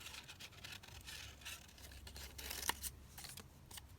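Scissors cutting out a paper banner for a junk journal, faint close snips and crisp paper rustles in a quiet room, with one sharper click near the middle.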